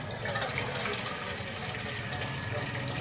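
Tap water runs steadily into a pot to be boiled for cooking, a close, even hiss and splash that continues unbroken throughout.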